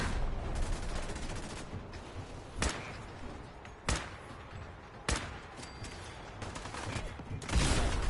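Gunfire in Fallout 4: several sharp, loud shots spaced a second or so apart over a dense, noisy battle background.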